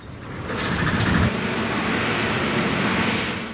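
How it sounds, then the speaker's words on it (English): A Norfolk Southern train on track 2 in Pennsylvania rolls past near Allegheny Tunnel with a broad, steady rumble that swells and holds, loud and close, with no voices. "this train is moving along on track 2"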